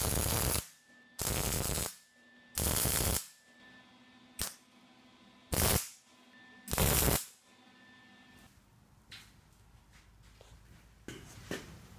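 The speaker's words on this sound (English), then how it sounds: "it's time to get tack welding" Tack welds on a steel drift trike frame: about six sharp, crackling bursts, each under a second, separated by brief pauses, followed by quieter clicks and shop handling noise.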